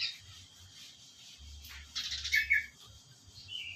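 A pet bird gives a brief burst of chirps and squawks in a quiet room, fairly close, with a low hum underneath and no talking.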